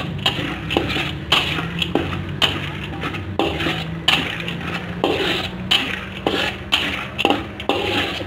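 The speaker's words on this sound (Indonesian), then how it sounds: "kita masukkan dulu kacangnya" Peanuts tipped into a frying pan for bakso tahu bakar, giving a dense rattle of clattering and scraping with repeated sharp knocks of a utensil against the pan, steady and close, with no voices.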